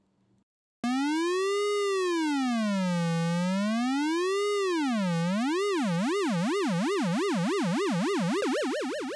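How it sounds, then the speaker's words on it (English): An Arturia ARP 2600 V software synthesizer's pure sine tone wobbles up and down in pitch under LFO modulation, the sweeps starting slow and wide, then speeding into a rapid warble, alone and steady in volume. "There we have an LFO pitch effect."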